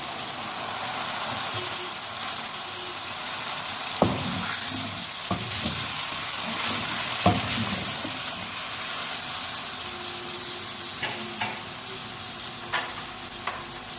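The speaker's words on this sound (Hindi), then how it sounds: "चिकन लहसुन अदरक के पेस्ट में अच्छी तरह फ्राई हो चुकी है।" Chicken fries in garlic ginger paste in a pan with a steady close sizzle and hiss, broken by several sharp scrapes and clatters of a spoon stirring it.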